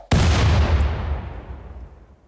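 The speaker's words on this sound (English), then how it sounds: "Blow those turrets up." A single loud, sharp video game blast as turrets are blown up. It hits hard and then fades into a long rumbling tail, with no talk over it.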